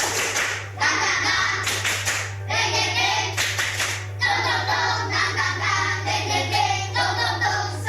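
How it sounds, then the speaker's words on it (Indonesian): A classroom of children performs a rhythmic spirit clap in bursts of patterned hand claps with brief pauses, over a steady low hum, with children's voices mixed in. "Baik, tepuk semangat."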